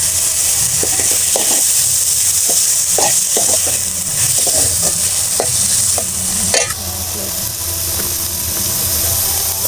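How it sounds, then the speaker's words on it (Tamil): Two large chopped tomatoes sauté in a pan for a drumstick-leaf stir-fry, giving a steady, loud sizzle and hiss with scattered stirring knocks, one sharper clatter partway through, and no voices. "இப்போ லைட்டாக வதக்கின உடனே நம்ம ரெண்டு தக்காளி பெரிய பீஸ் தக்காளி வெட்டி வச்சுருக்கோம் அதையும் உள்ளே சேர்த்துக்கலாம்"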